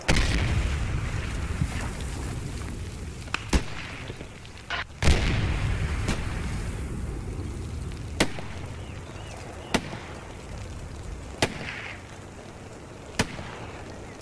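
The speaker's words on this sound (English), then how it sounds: "Be advised all, there's enemy artillery on Valmullen." Enemy artillery in Post Scriptum lands as sharp booming impacts, spaced every second or two over a steady rumbling battlefield bed, some close and loud, others more distant.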